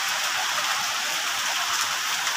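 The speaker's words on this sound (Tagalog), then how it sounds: "Grabe guys oh, ang baha oh. Ang lakas ng tubig." Heavy rain pours down over floodwater in a village in Leyte, Philippines, a dense, steady hiss that fills the whole stretch with no voices.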